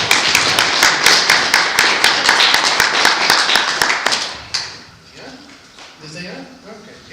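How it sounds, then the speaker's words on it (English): An audience at an event on motivating and encouraging young girls claps for Eric, a loud burst of hand claps lasting about four seconds before fading out, followed by quieter room noise and a voice. "please give Eric a nice round of applause"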